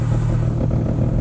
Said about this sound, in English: Oh, this is exhaust getting worse.